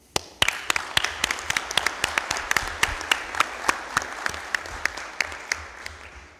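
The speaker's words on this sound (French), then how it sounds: "je vous propose de vous applaudir à nouveau" Council members applaud at a municipal council meeting, a room of hands clapping with distinct sharp claps standing out over a dense steady patter, fairly close and continuous throughout.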